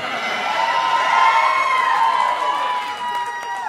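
A live theater audience cheers and whoops for Mitch at a comedy podcast taping with John C. Reilly, a dense, loud roar of many voices rising and then tapering off.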